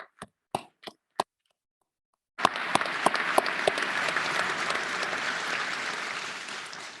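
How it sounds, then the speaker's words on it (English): Graduates at a spring commencement applaud faculty and staff: a few isolated sharp claps, a brief silence, then a full burst of crowd applause that swells quickly and holds steady before easing slightly. "Let's give them a round of applause"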